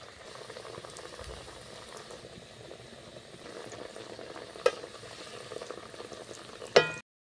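Spiced cabbage chops fry in hot oil with a steady, close crackling sizzle that runs for about seven seconds, broken by two sharp clicks near the end.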